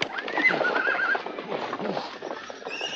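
A horse whinnies with a rising, drawn-out call, then hooves clip-clop steadily and close by in a bustling outdoor farmyard scene, with faint voices in the background.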